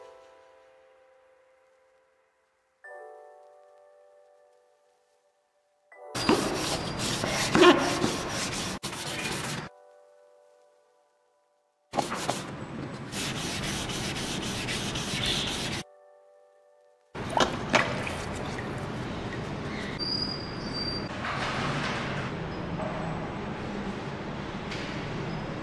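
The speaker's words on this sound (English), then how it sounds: "use a sander to grind the bottom until it is even and level" A sander grinds the bottom of a concrete lamp base in three loud, rough, abrasive bursts of several seconds each, separated by silent pauses, after a faint quiet tone at the start.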